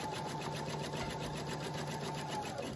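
Quilt blocks are stitched together on a sewing machine, which whirs in a fast, even, continuous rhythm, close and fairly quiet, with no talking.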